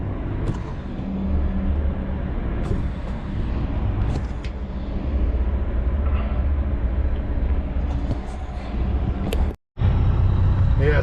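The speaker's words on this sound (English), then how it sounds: "that other train is just finishing up in there, pushing cars backwards" A freight train shunting in a rail yard, pushing cars backwards, gives a steady loud rumble with clanks and squeals over about eleven seconds, broken by one brief gap.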